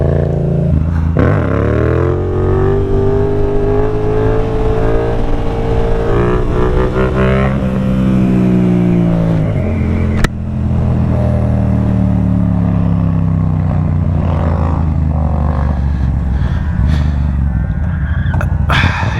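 A Yamaha MT-07 naked motorcycle revs loud and close, its engine note climbing and falling in sustained throttle sweeps with a brief cut near the middle before the exhaust drone picks back up.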